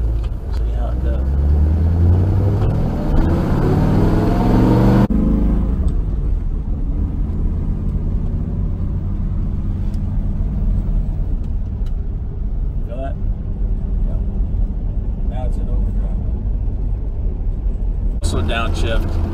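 A 1955 Ford Fairlane with Borg Warner overdrive rolls along off the gas, its loud low engine and road rumble steady throughout, with a sharp change in tone about a quarter of the way in and a brief disturbance near the end.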